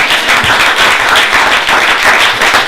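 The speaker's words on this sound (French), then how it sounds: "Applaudissez pour vous, s'il vous plaît." An audience claps and applauds loudly and continuously, a dense steady wash of hands with no voices standing out.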